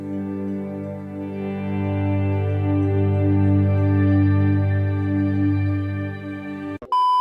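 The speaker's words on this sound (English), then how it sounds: "use my fingers to create a shimmery sound." A shimmery guitar pad through overdrive and fully wet reverb swells as a smooth, sustained chord with no attack, holding steady before an abrupt clatter as it cuts off.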